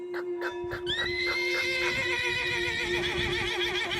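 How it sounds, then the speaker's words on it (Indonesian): A horse whinnies loudly and at length over a rapid patter of hooves, with the neigh rising and wavering before trailing off, the clip-clop continuing underneath throughout. "suara kaki kuda"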